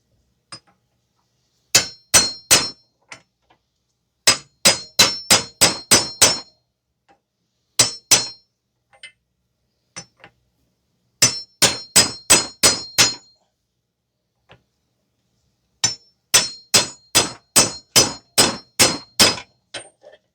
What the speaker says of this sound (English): you can turn the knuckle on the side and try to hammer out the hub that way